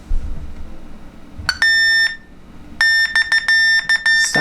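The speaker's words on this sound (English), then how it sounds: "as you can hear there, it starts beeping" A laser keyboard beeps loudly while pairing with a tablet, giving one tone and then a run of rapid repeated electronic beeps at close range.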